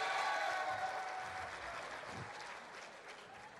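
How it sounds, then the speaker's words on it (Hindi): An audience at a Pakistan Literature Festival session at the Arts Council in Lahore applauds a guest: sustained, dense hand-clapping that starts loud and gradually eases off over a few seconds. "तालियां बजाइए"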